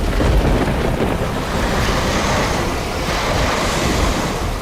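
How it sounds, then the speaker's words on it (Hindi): A fierce storm of roaring wind and heavy rain, a loud, dense, continuous rush with no break, heard alone without voices. "ऐसी आंधी और ऐसी वर्षा, मानो संपूर्ण घर उखड़ जाएंगे।"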